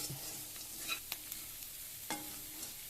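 Sliced onions and minapa vadiyalu (sun-dried urad dal fritters) frying in a pan give a soft, steady sizzle, with a few sharp scrapes and taps as they are stirred, close and quiet, with no talking.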